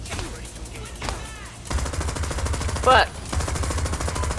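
Bursts of automatic gunfire during a heist in the video game Crime Boss Rockay City, with rapid shot strings across the clip and a voice briefly speaking.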